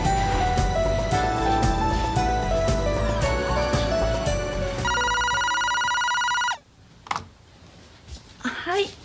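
A telephone rings nearby with a bright melodic electronic ringtone over room noise, then cuts off, followed by a brief silence and a voice starting to speak.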